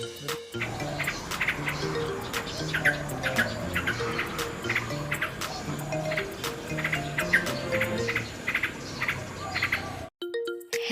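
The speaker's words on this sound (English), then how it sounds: "Nightingale. Nightingale means Bulbul." Nightingale song: a dense, steady chorus of repeated bright chirps and trills over a busy natural background, ending abruptly near the close.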